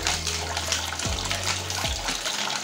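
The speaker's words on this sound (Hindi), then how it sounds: "क्योंकि ये पानी चला ना आवाज आती है" Water rushes steadily into the drum of a Whirlpool fully automatic washing machine during a home service with descaling powder, a loud continuous gushing that stays even throughout and carries a low hum beneath.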